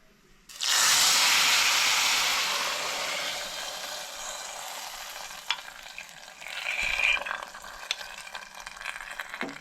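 Hot tempering poured into mixed dal erupts in a sudden loud sizzle that slowly fades to a softer bubbling hiss, with a few sharp crackles and spoon clinks near the end.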